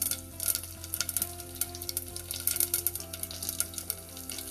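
Mustard seeds, cumin seeds and two red chilies crackle and sizzle in hot oil for a sambar tempering, giving a steady frying hiss with dense pops and spatters that run throughout at close range.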